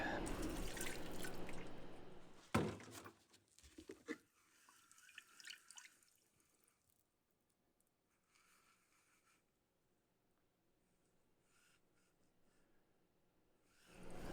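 Water rinses gunk off gold-plated pins, loud and splashing for the first few seconds, then dwindling to faint scattered drips and trickles with near silence in between.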